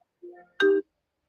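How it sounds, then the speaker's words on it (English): A mobile phone gives a short ringtone burst, a soft tonal chime followed by a louder, brighter tone, set in a quiet room between stretches of football talk. "Is that your phone or mine?"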